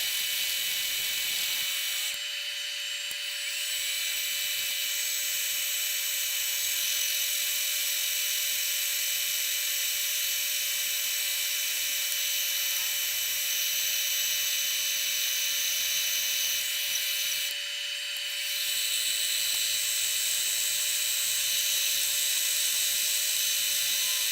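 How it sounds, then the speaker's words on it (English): Steady high-pitched whine of a spinning wood lathe running continuously, with brief scraping bursts as a tool cuts the surface of a burl and epoxy ring blank down to the wood. "So I have it on the lathe and I start taking the surface down until I get down to just the wood."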